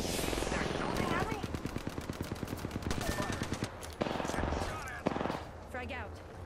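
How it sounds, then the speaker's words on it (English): Enemy gunfire in a shooter video game: rapid machine-gun bursts rattle in fast, even rhythms, broken by short pauses and single loud shots, while a player talks over the action. "They're shooting at me?"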